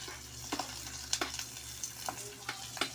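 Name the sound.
sautéing aromatics in a pan for shrimp and crab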